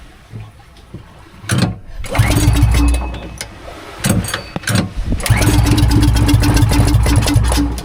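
An engine aboard a launch cranks and fires, stopping briefly before catching again and settling into a loud, close, rumbling run.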